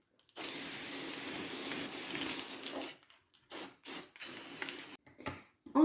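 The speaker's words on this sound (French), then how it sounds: "je vais appliquer du spray velours marron uniquement sur le dessus" Brown velvet spray applied onto the top of a chocolate mousse yule log: one long hissing burst of about two and a half seconds, then several short spritzes in quick succession, close and fairly faint.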